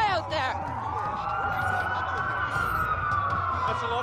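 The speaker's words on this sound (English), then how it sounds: "That's a lot of sirens for a blackout." Several police sirens in the video game Watch Dogs wail and overlap at a distance, steady rising and falling tones over a low rumbling background.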